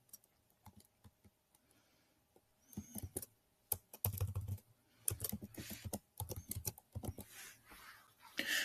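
Someone types a phone number on a computer keyboard, with quick irregular bursts of crisp key clicks separated by short pauses, close and fairly quiet with no talking.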